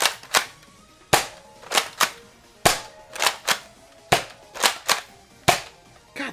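A Zuru X-Shot Chaos Meteor toy blaster pistol fires a run of sharp, loud snapping shots in quick pairs and singles, each crack standing clear with short gaps between.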